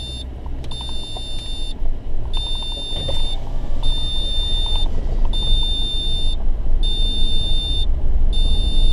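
A Chamberlain driveway alarm receiver sounds a high electronic beep in regular repeating bursts, each about a second long with short gaps, heard inside a running car over a low engine and road rumble.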